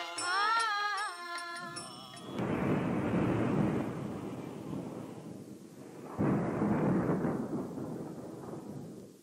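Thunder in the rainy season as a radio-play sound effect: two long, heavy rolling rumbles, the first following a brief tonal passage, each swelling loud and slowly fading.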